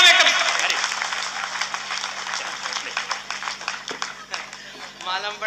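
A hall audience in a Hindi comedy show claps loudly and steadily, with dense applause that fades slightly toward the end and brief voices showing through.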